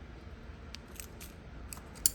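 Scissors snipping while pruning a cork bark oak bonsai, a few faint, sparse metallic clicks spread across a quiet background, with one sharper, louder cut near the end.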